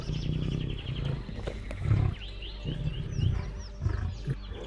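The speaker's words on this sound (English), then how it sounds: "It is the sound of a roar." A lion roaring on the African plains, a series of deep rumbling grunting roars repeating at close range, with the rise and fall of each call clearly heard.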